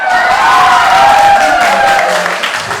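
A small group of friends claps and cheers just after a basketball shot goes in, a dense, lively burst of applause close by that tapers off near the end.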